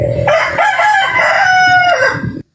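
A rooster crows loudly and close by, one long drawn-out cock-a-doodle-doo that rises, holds and breaks off into silence, with no talk over it.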